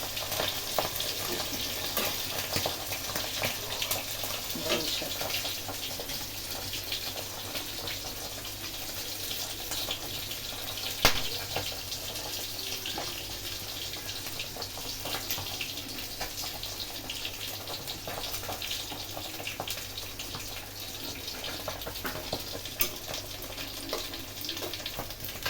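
Leafy greens fry in a pan on a gas cylinder stove, a steady hissing sizzle with faint crackles and an occasional clink, close and even throughout without speech.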